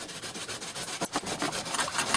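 Carrots rubbed against a kitchen grater in a home kitchen in the morning, a close rasping scrape repeated in quick, uneven strokes, fairly quiet and with no talking.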